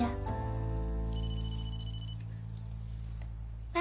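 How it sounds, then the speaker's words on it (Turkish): A telephone rings loud and close with a steady electronic bell tone, then a brighter chime pattern sounds over it before fading, with no talking. "Telefon al dayı."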